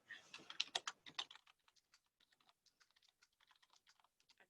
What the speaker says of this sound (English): I'm just typing momentarily in the chat box